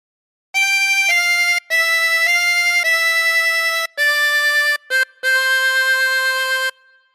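A 16-hole tremolo harmonica plays a phrase of God Defend New Zealand, sustained reedy notes with a wavering tremolo, held long and separated by brief breath gaps, close and clear with no voices.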